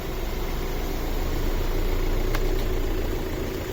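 Hyundai Creta 1.4-litre engine ticking over at idle, a quieter, smoother hum that stays even throughout, heard up close with a couple of faint light clicks and no talking.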